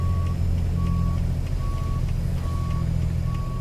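Evenly spaced reversing beeps from a semi truck backing toward its trailer in American Truck Simulator, five steady tones over a constant low diesel engine rumble, no talking.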